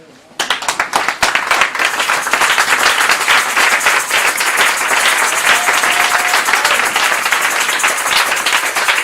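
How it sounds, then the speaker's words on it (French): A church congregation breaks into loud, sustained applause at a Sunday service, with dense clapping and cheering voices mixed in, close and continuous after a quiet opening moment. "il se lève et il acclame Jésus"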